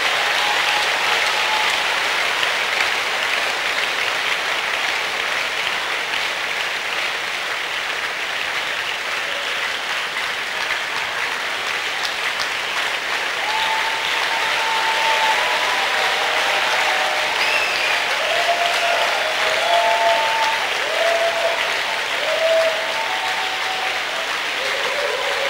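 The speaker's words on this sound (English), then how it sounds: "Can I hear a better clap off from somebody?" Church congregation clapping steadily and loudly through a sermon, a sustained, even wash of many hands with faint tonal sounds drifting in partway through.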